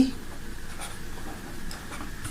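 A pen scratches across paper while a geometry construction is written out, faint short strokes in a quiet room with a low hum underneath.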